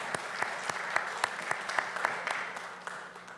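Audience clapping at a town council meeting's recognition of Little League representatives, a short burst of steady scattered applause from a room of people, fairly even in loudness for a few seconds.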